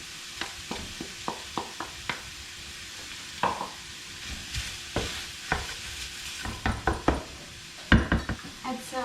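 Onion frying in a pan for a vegetarian shepherd's pie, stirred and tapped with a utensil in a series of sharp clacks and scrapes over a soft, steady sizzle, close by.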